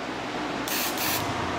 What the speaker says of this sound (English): You can see as I'm doing two sprays right now, it still look like a good amount of black spray.